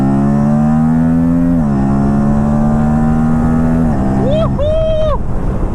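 An RS 457 sport motorcycle of under 500cc drones loudly under hard acceleration, its engine tone holding steady and then dipping and climbing across gear changes, with heavy wind rushing past the microphone.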